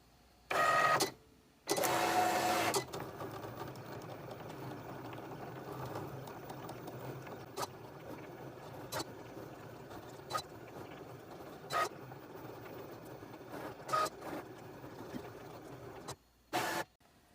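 A Cricut cutting machine slices appliqué fabric pieces on a mat, a steady low mechanical hum with intermittent short clicks and carriage movements, framed by louder bursts near the start and a brief one near the end.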